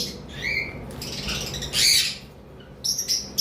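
Sun conure and cockatiel parrots, kept as breeding pairs for sale, give loud harsh squawks and chirps in bursts, close by over a steady background hum, with no talking.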